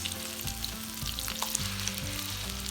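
Chicken cutlets for chicken francese sizzle in a pan, a steady, close crackle and hiss of oil that continues without pause, with no voices.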